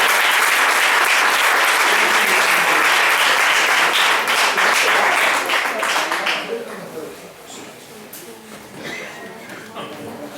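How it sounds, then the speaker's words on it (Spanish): An audience at a talk on marine water dispensaries gives a strong round of applause. The dense clapping holds loud for about six seconds, then thins and fades, and a few voices murmur underneath. "Le damos un fuerte aplauso también a Teresa de Mayo"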